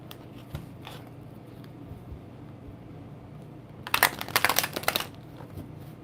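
Tarot cards being shuffled during a quiet reading, a dense burst of riffling and flapping card sounds lasting about a second, close by and alone against faint room noise.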